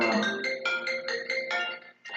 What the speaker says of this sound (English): Phone always ringing during these interviews every time.